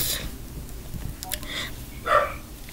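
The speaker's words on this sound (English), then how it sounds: "My dog is barking in the background." A dog barks a few short times in the background inside a house, fairly faint and partly under a person talking.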